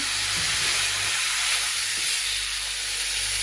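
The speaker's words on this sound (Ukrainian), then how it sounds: "Знову перемішую" Warm liver salad with sesame stirred in a hot pan, giving a loud, steady sizzling hiss that runs unbroken, with a couple of faint scraping touches underneath.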